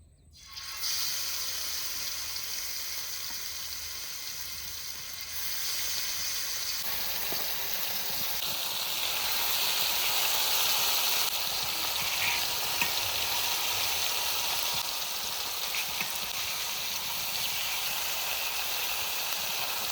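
Fish frying on a tawa, a steady sizzling hiss that starts abruptly and holds for the whole stretch, growing a little louder and denser partway through, close and without any talk.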